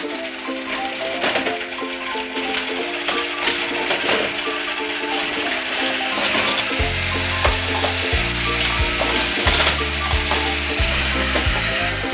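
A motorized Tomica toy car playset track runs with dense, steady ratcheting and clicking gear noise from plastic mechanisms, continuous and fairly loud throughout, with rattling toy cars layered over it.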